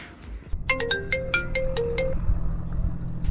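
A mobile phone rings with an incoming call, its bright melodic ringtone starting abruptly and playing a short rising run of tones over faint low background rumble outdoors at an old fort.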